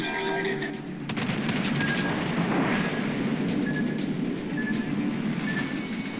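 Warship guns boom in World of Warships as a cruiser battle unfolds, a heavy salvo followed by a run of sharp repeated shots and scattered blasts, with a voice talking over the gunfire.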